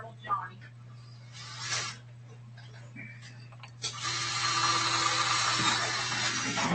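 A power drill whirs steadily and loudly for several seconds after a few quiet knocks and handling noises, with a low hum underneath.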